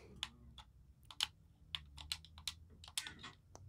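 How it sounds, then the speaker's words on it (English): A game controller sits near the microphone, its buttons clicking in a quick irregular series of sharp taps close to the mic, with no voices. "sorry for the clicking. The controller is just near the mic."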